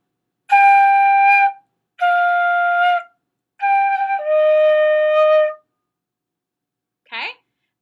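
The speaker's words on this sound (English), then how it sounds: "we now know enough notes to be able to play Hot Cross Buns on our baby flute" A small beginner's baby flute plays the Hot Cross Buns melody as three clear sustained phrases of stepwise notes, the last one longer, each separated by short pauses, followed by a brief burst of speech.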